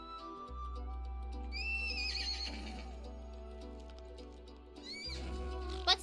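Butt Stallion, a diamond horse in the video game Borderlands 2, lets out two high whinnies over a low steady game hum, followed by a shorter squeal near the end, with no talk.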